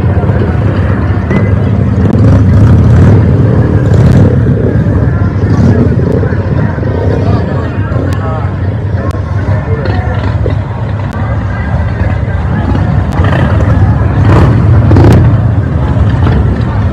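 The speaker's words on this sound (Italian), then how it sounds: "Le moto ci stanno sempre." Loud, continuous rumble of motorcycle engines with surging revs at a bikers' bar American Day event, mixed with a busy crowd murmur and occasional sharp mechanical clicks nearby.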